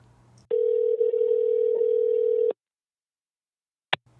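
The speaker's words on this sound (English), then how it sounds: "Let me dial him up." A steady telephone dial tone sounds for about two seconds, then cuts to silence before a brief click.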